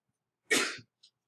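A single sharp burst like a sneeze or cough in a quiet room, close and loud, followed by a tiny faint sound.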